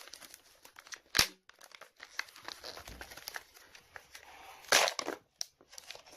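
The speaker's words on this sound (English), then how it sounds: "Miles, rip that thing open." Flashlight packaging is ripped open in a series of crinkling, tearing bursts, with two sharp loud rips standing out among softer rustles and crackles, heard close with no talking.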